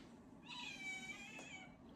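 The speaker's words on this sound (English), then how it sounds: "There's the kitty." A house cat meows in a drawn-out call at close range, one clear meow in a quiet indoor room.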